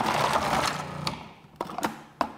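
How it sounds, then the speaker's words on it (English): Cuisinart Prep 11 Plus food processor slicing green beans on pulse: a loud motor whir at first, then several short sharp pulse bursts separated by brief pauses, close by. "you're going to use the pulse button, and look how quickly we're going to slice up these green beans"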